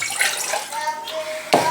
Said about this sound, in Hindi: इसमें हम आधा गिलास पानी शामिल कर देंगे